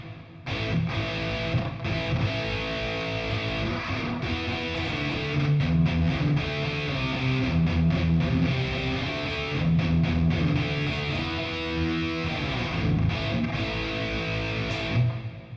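Distorted electric guitar through a Headrush Flex Prime's hall reverb, playing chords and riffs with a long, spacious reverb tail, steady and fairly loud throughout.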